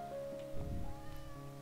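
A cat in the Minecraft video game gives a single short meow at moderate volume over a faint steady background hum.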